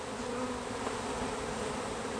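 Honey bees buzz steadily in a dense, continuous drone while being rescued from a birdhouse at a house, the swarm close and loud with no talk over it.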